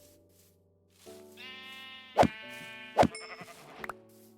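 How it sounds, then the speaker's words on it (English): Sheep in Minecraft bleating in a few separate wavering calls, with two sharp louder clicks or hits between them, fairly close and clear, with no talk over them. "Sorry, sheep."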